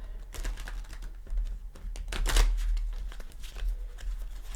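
Tarot cards being shuffled close up: quick, soft, papery riffling and flicking bursts in an irregular rhythm, fairly quiet, with no talk.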